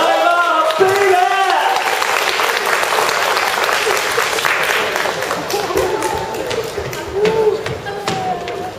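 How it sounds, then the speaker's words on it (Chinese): A crowd at a live show bursts into loud, sustained applause with scattered shouts and cheers as the band is welcomed on stage. A voice is heard briefly at the start, and the clapping gradually thins toward the end. "现在用最热情的掌声，还有尖叫，来欢迎我们今天的乐团"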